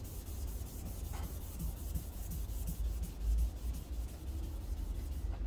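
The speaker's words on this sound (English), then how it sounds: "sand on the X pattern" A K2500 foam interface pad block sanding a surface in short repeated strokes, close and soft, in an even scratchy rhythm.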